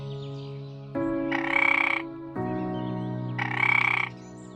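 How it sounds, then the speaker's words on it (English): Frogs croaking loudly and close by, in long harmonic calls with two bursts of higher, buzzier chorusing, steady and alone with no talk. "The frogs have long since left their spawning grounds."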